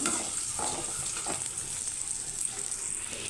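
Round red chillies sizzle and crackle steadily in hot oil in a pan, a continuous close frying hiss with faint stirring, no voices.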